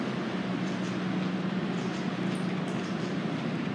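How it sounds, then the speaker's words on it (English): Low rumbling rail ambience in a train station early in the morning, with a steady train drone and faint clatter, continuous and fairly close, with no talk. "In the train station, waiting for the train to show up"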